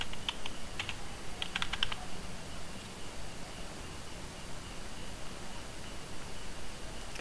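Light, quick keystrokes on a computer keyboard as a password is entered, a short cluster of clicks early on followed by sparse taps over a steady background hiss.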